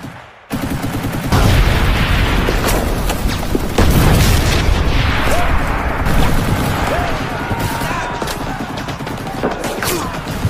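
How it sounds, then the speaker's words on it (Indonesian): Heavy World War I battlefield combat: dense gunfire, rapid bursts and booming explosions roll on continuously at close range, loud and chaotic, with shouting voices mixed underneath. "Namun di tengah serbuan tembakan musuh, trauma William kembali kambuh"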